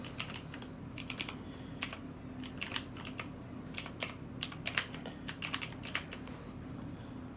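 Quick, irregular keystrokes on a computer keyboard as a password is typed, clicky and moderately close against a steady low background hum, with no voices.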